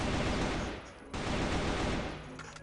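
Tap-firing a gun in a video game: quick, controlled gunshots crackling in dense bursts with a brief lull partway through, loud and close, with no voices.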